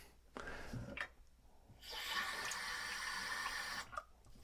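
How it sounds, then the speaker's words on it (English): Water runs from a tap into a container in a steady gush lasting a couple of seconds, after some brief clinks and splashes. "I take this and fill it with water."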